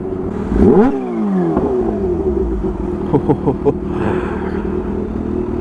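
A Kawasaki Ninja H2 motorcycle revs at partial throttle, with a loud rising sweep followed by a few short, sharp blips and then a steady idle rumble, close to the listener.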